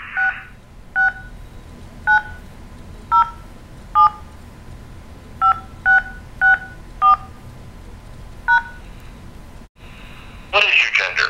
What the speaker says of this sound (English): Please say your 9-digit social security number or enter the digits using your touchtone phone.